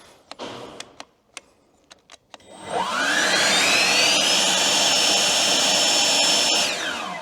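A backpack leaf blower starts up after a few sharp clicks and spins up to full power, roaring loudly and steadily at close range for several seconds before cutting off.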